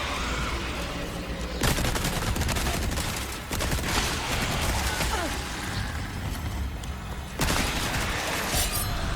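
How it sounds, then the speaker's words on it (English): Bursts of rapid machine gun fire in Resident Evil 4 start and stop in several long volleys, with crashing and shattering impacts in between and occasional talk underneath. "Machine gun doesn't work on this guy."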